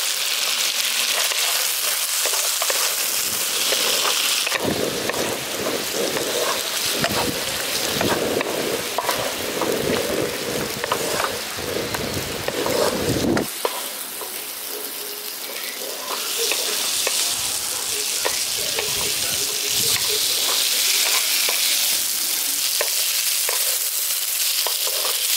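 Fried potatoes and jackfruit seeds cooking in a soft tomato masala, with continuous close sizzling and frying punctuated by repeated stirring and scraping, growing louder in the middle before easing back.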